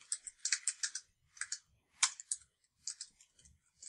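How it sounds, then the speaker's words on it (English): Bursts of typing on a computer keyboard, quick clusters of crisp key clicks separated by short pauses, close and fairly quiet with no talking. "I can hear you typing."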